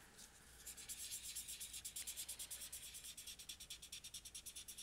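Colored pencil or crayon rubbed back and forth on paper to blend colors, a quiet, close, rhythmic scratching of fast repeated strokes that builds steadily, with no voices.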